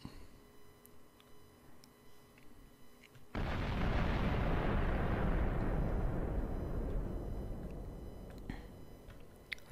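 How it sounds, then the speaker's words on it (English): In the Minecraft Voltz mod, a nuclear missile detonates with a sudden loud, deep blast that turns into a long rumbling roar and slowly fades. "Let's hope for detonation."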